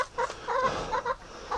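Laying hens cluck and make throaty calls in short repeated bursts near their egg nests, close and fairly loud, with no voices.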